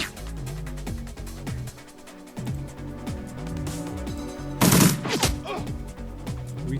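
Bursts of gunfire from the turn-based game Shadowrun Returns, with one sharp loud volley standing out near the end over continuous game music and effects, no voices.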